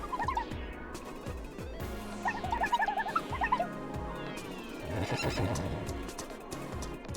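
Horse neighing and whinnying in a video game, several bright cries over a steady run of clip-clopping hoofbeats, with a busy game soundscape behind them.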